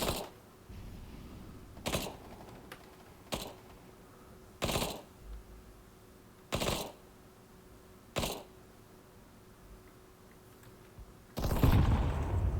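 Gunfire in the video game Counter-Strike: Global Offensive, with about seven sharp single shots spaced a second or two apart at moderate distance, then a denser burst of noise at the end.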